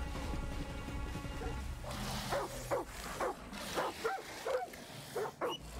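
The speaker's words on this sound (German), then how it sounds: "Obwohl, es ist ein freundlicher Hund, oder?" A dog barks in the video game Far Cry 6, with a handful of short, fairly close barks in the second half over a steady game background hum.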